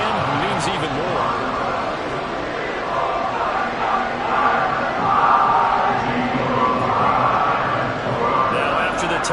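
A stadium crowd in Madden 24 keeps up a continuous roar during a playoff football game, while an announcer talks over it.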